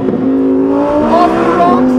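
A 2020 Lamborghini Huracan Evo Spyder downshifting into first: a loud, close engine blip with revs climbing sharply and then settling, a brief rasping surge on an open road.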